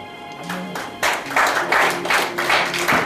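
Church congregation clapping in rhythm, a steady run of sharp hand claps that starts up after a brief pause and continues strongly, close and fairly loud, with faint singing or voices underneath.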